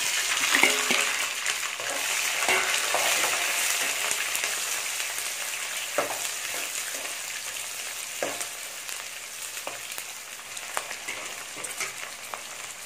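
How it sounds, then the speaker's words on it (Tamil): Onions and six green chillies sizzle in oil for poori masala, a dense continuous frying hiss up close with occasional soft stirring taps, no talking. "வெங்காயம் நல்லா வதங்கிருச்சு."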